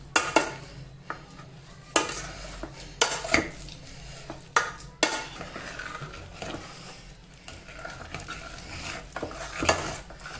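Jaggery is stirred into hot sweet potato pulp in a pot, with repeated scraping and clinking strokes of a spoon against the vessel alongside a soft sizzle, no talking.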